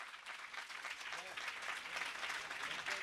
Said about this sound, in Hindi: तालियां आपकी बहुत कम बज रही हैं